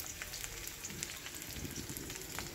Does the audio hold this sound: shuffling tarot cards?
no